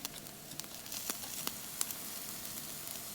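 Redfish, mangrove snapper and seatrout fillets grill over the heat at a shore lunch, with a steady soft sizzle and occasional faint pops and crackles, fairly quiet and with no talk.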